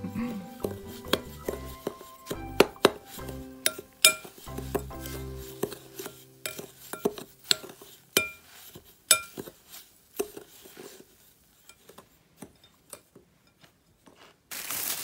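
Clinking and scraping of utensils against a bowl while a homemade bath bomb mixture is stirred, with irregular taps and knocks throughout, close and fairly quiet, no talking.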